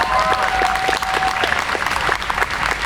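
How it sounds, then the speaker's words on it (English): A crowd at a Negro Election Day celebration breaks into sustained applause, many hands clapping densely and loudly, with faint voices and a thin tone mixed into the room noise. "give yourselves a round of applause"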